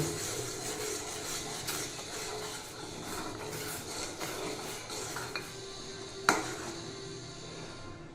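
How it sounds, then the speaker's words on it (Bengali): Milk tea with loose tea leaves is stirred in a pot, giving a steady scraping, swishing texture with occasional clinks of a spoon against metal and one sharper knock near the end; no talking. "এখন নেড়ে নিব"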